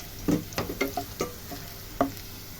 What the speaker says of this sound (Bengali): এইভাবে সমস্ত সবজিগুলো আমি এক এক করে ভাজবো